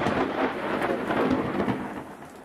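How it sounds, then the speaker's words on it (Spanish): An electrical thunderstorm rolls on steadily, with dense rain pattering on surfaces and low thunder rumbling beneath it, loud and continuous throughout with no voices. "Inater dice que también hay tormentas eléctricas"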